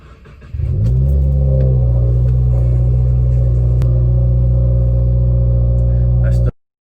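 A car with a loud aftermarket muffler starts up and drones steadily on a test drive, a deep, booming exhaust rumble that stays close and loud throughout before cutting off abruptly.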